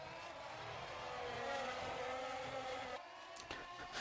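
A Formula 1 race car engine in a racing game whines at high pitch around Albert Park, held steady, then drops off sharply near the three-second mark before rising again.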